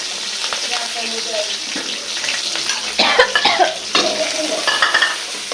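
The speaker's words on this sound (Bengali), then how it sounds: "তোমার পেঁয়াজ কাঁচামরিচ রসুন সুন্দর করে ভাজা ভাজা হয়ে গেছে" Onion, green chili and garlic fry in oil in a wok, with a constant close sizzle broken by scraping, stirring strokes that grow busier in the second half; faint voices sit underneath.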